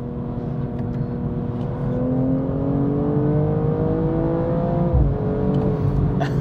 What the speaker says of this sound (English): Oh, those downshifts just sound so good.